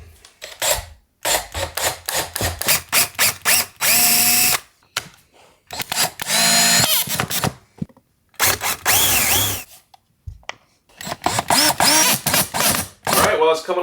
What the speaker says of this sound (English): we're using a drill bit that's about as wide as the head of the screws